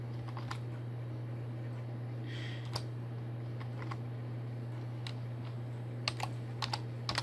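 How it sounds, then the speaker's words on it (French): Scattered keystrokes on a computer keyboard as an email address is entered, sparse clicks spread over a steady background hum, with a quick cluster of taps near the end. "Donc on la tape et on vérifie qu'on n'a pas fait d'erreur"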